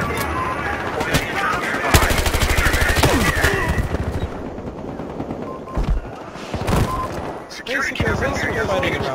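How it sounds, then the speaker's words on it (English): Heavy gunfire in the video game Battlefield Hardline, sustained loud bursts and shots with a sniper firing, mixed with game voices and battle noise throughout. "Watch the sniper fire!"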